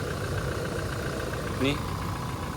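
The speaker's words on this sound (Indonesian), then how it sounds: "Meskipun mobil udah lama, udah tua, tapi mesin tetap halus ya. Ini suara paling halus ini." An old diesel car engine idles with a steady, low, even rumble throughout, close by, with no change in pace.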